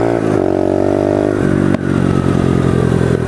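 A pit bike engine revving hard while riding, a loud, close, continuous buzzing roar with a brief dip in pitch partway through, then climbing again.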